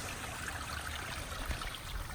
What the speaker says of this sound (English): there's a spring over here.